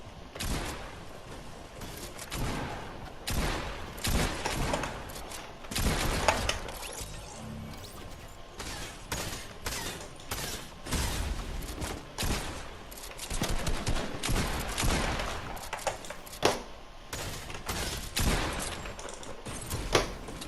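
Rapid bursts of submachine gun fire in a video game shootout against bots, loud and dense, with repeated volleys and crashing impacts running steadily throughout.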